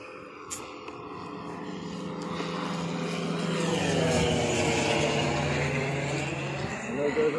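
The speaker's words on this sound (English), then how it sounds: "Tiger moth airplane." A Tiger Moth propeller biplane drones overhead on a sea kayaking outing, its steady engine hum swelling to a peak midway and then fading slightly, with people talking faintly beneath it.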